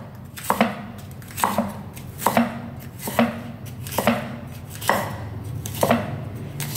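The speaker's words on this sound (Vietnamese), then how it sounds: "Các bạn thái hết như thế này cho mình." A kitchen knife chops winged beans on a cutting board in seven or so crisp, evenly spaced thwacks, close and loud with no voices.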